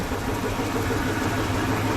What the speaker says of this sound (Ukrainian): Зараз працює кормозмішувач, змішуємо